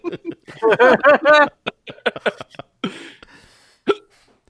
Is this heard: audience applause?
no